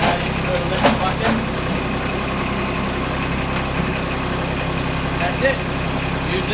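John Deere 2210 compact tractor engine running steadily with a loader fitted, a close, constant low drone with a few brief clanks as the bucket is lifted.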